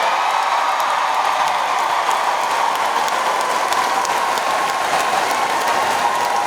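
A large crowd of teachers at a school-year welcome event gives a loud, dense round of applause that holds steady throughout, with scattered cheers and whoops mixed into the clapping.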